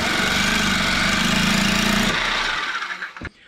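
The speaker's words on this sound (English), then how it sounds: "So the trick to cutting a bolt is you put the nut on, cut and then remove the nut" Power tool cutting through a bolt with a nut threaded on it, during a pop-up camper battery upgrade. A loud, steady close whine runs for about two seconds, then fades and stutters out, and a brief clank closes the clip.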